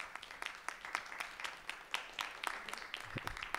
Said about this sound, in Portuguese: Recebam com aplausos,